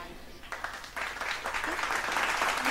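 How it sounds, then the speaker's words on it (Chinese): Audience applause welcomes the Yinhe (Galaxy) dance troupe arriving to perform a Dai peacock dance at Chicago's 2015 Moon Festival. The clapping starts sparse and builds into steady, dense applause that fills the hall. "我们用掌声欢迎他们。"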